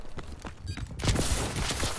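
Three-round bursts from the ARX rifle in Call of Duty: Advanced Warfare crackle in quick clusters, growing louder and denser in the second half amid continuous battle noise.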